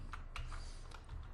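Keystrokes on a computer keyboard while a command is typed into a network simulator, a few quick clicks in small bursts heard close over a steady background hiss.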